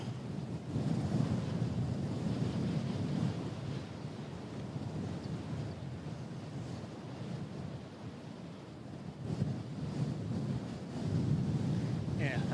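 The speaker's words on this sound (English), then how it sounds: "that wind decided to just pick up again, in case you hadn't noticed" Strong gusty wind buffets the microphone at Christchurch Airport, a steady loud roar that swells and eases, with faint talk in the background.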